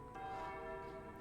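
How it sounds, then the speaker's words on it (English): Church bells ring in a soft, sustained wash of overlapping tones, distant and faint, with no voices present. "The rolling sound of bells."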